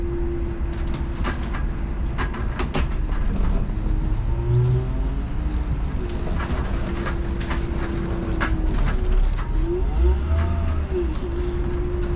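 A 2022 Jayco Alante 26X Class A motorhome moving between parking spaces, its engine a continuous low rumble close by, with clicks and rattles scattered across the twelve seconds and no talk.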